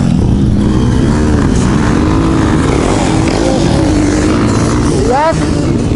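A Yamaha 250 motorcycle engine drones and revs on a hill climb, loud and continuous with rising pitch sweeps near the end, while people talk over it.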